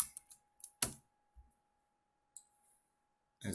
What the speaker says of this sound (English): I'm going to go ahead and type that.